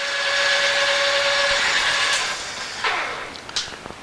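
A machine cuts a bar dry at 450 RPM with a steady, loud grinding whir and a faint tonal whine. The sound eases after about two seconds into lighter scraping with a few sharp ticks.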